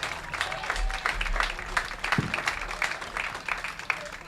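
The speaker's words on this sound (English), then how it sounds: "let's give him a round of applause" Outdoor crowd applause at a summer-league baseball game between the Newport Gulls and New Bedford Bay Sox, scattered distinct claps with cheering, moderately distant, with a low rumble underneath.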